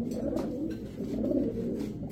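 A female pigeon, a Budapest highflyer-type racing bird, coos close by: a low, throaty, continuous rolling coo with soft pulses and no talking over it.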